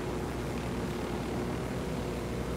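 A helicopter in the video game Ghost Recon Wildlands gives off a steady, dense rotor and engine drone that stays constant and fairly close, with no voices over it.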